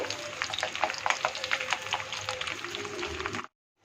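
Chopped ginger and garlic fry in hot oil for a beef pickle, a crackling sizzle with scattered pops and stirring scrapes that runs steadily, then cuts out abruptly near the end.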